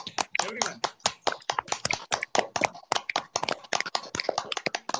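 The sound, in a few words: group of people clapping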